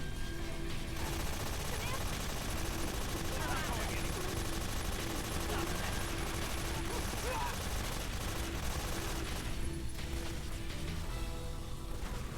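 Sustained automatic gunfire in Metal Gear Solid 3 on PS3, a dense, continuous stream of rapid shots lasting the whole stretch, loud and unbroken, with game sounds layered underneath.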